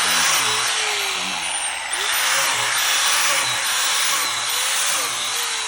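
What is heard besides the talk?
drill boring holes in log for mushroom inoculation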